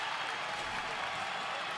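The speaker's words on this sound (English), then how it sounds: "He's getting the crowd on their feet" Steady crowd roar and applause fill a college volleyball arena after an ace serve in an NCAA match between Long Beach State and UCLA, a dense, continuous wash of cheering with no clear breaks.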